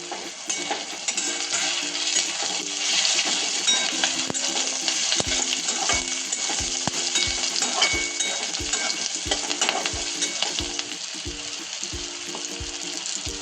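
Chopped tomato and fresh green curry leaves hit hot oil in a pan, giving a steady, loud sizzle and crackle, with soft rhythmic clinks of a stirring spoon running through it.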